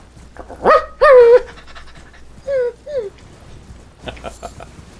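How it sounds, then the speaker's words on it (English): Dog companions in the video game Elden Ring pant in short, breathy bursts with a couple of whimpery vocal notes, close and fairly loud, with quiet gaps between. "I love my doggy helpers."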